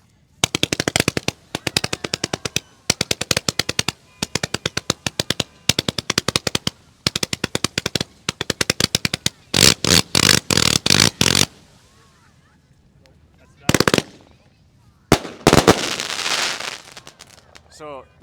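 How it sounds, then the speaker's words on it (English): Fireworks at a New Year's Eve show: rapid strings of crackling bursts in repeated volleys, like machine-gun fire, then a few heavier booms and a hissing burst near the end, loud and close. "here goes like one firework"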